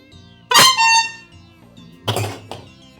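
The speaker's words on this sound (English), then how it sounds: "Chaotic honk cacophony sends Gamzee into a chorus of screams." A chaotic pile of horns in the Homestuck Pesterquest game set off two loud bursts of harsh honking, the first longer and the second followed by a short extra blast, with quiet tones between.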